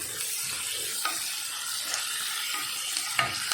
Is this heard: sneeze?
no